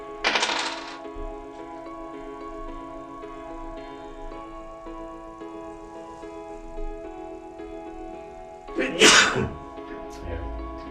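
Two sharp sneezes, one at the start and one near the end, with quiet ticking and faint background tones between them.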